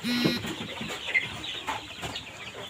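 Fayoumi chickens clucking close by with high peeping chicks among hundreds at a poultry farm, several short calls overlapping in a busy, uneven chatter.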